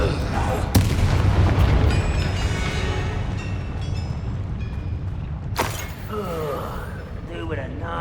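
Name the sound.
Incendio and Confringo spell blasts in video game Hogwarts Legacy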